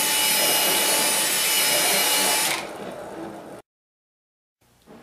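A power drill whirs loudly and steadily as it spins an abrasive resurfacing pad for a bowling ball, then winds down and stops, leaving silence before a faint restart.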